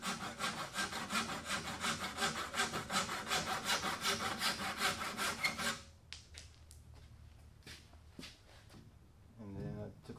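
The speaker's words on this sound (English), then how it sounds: "then used the spoke shave for a little" Rapid, rhythmic scraping strokes of a spokeshave rounding over a walnut edge continue for several seconds, then stop, followed by quieter handling sounds.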